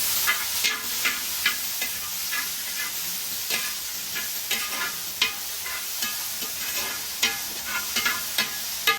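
Chopped shallots and garlic sauté in a pan for a beef leg fry, a constant close sizzle broken by regular scraping strokes of a spoon stirring through.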